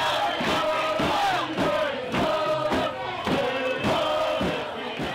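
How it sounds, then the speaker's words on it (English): Protest crowd marching through downtown Vancouver streets toward a corporate headquarters, a loud, steady roar of many voices with rhythmic chanting and repeated shouted bursts roughly every half second, close and continuous throughout. "the crowd took to the streets, marching several blocks to Enbridge's Vancouver headquarters"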